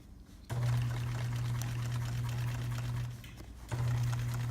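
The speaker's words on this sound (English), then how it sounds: "sewing over the seam allowance." A sewing machine stitches over a seam allowance while assembling a no-barrier backpack, its steady motor hum running in two long bursts with a short slower pause between them, close and alone.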